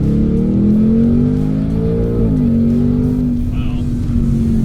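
A 2024 Ford Mustang Dark Horse in track mode accelerates hard on a twisty road, its engine note loud and close, rising steadily through the revs, dipping briefly at a shift, then climbing again.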